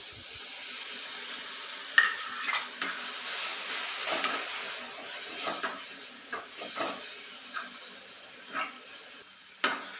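Blended tomato puree cooking in a pan gives a soft, low sizzle with scattered spoon scrapes and small splashes, quiet and close, no voices.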